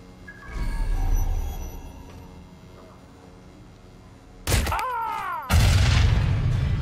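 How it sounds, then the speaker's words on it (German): Two heavy booming blasts in Watch Dogs: Legion, the second following soon after the first, loud and close, with low rumbling and a brief whooshing sweep between them. "Alter, warum ist der explodiert?"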